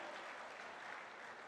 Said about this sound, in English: One big round of applause for Honorable Professor Dr. Vishwanath D. Ka